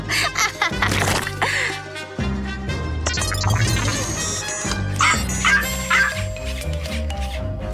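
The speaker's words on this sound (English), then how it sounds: "And she's going to use the robot dog." A robot dog in a cartoon yips and barks repeatedly over busy background music and sound effects, close and fairly loud throughout.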